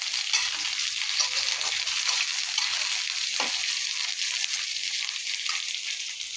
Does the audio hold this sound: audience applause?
no